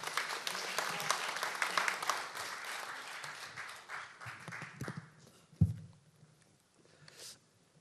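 Audience applause greeting a speaker at a legislative debate forum on resident self-governance, a sustained dense clapping that gradually thins out and fades, with a brief knock near the end.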